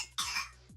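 A single short, sharp cough close to the microphone, with a faint throat-clearing quality, alone and without talk.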